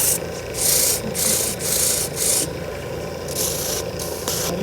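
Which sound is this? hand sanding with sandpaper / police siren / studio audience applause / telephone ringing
hand sanding with sandpaper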